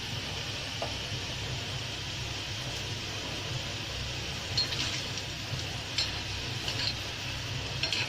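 Steady hiss of oil bubbling and sizzling around kozhukattai dumplings deep frying over a medium flame, with a few faint clinks toward the end.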